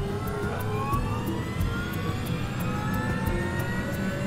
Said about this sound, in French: En enregistrant le son des moteurs de l'intérieur du cockpit.